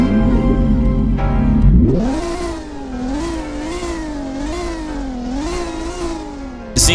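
A single-seat car's engine in a Southwest Florida driving video game idles with a rough drone, then revs up sharply and holds a loud, wavering whine that rises and dips through repeated throttle blips, with no talking.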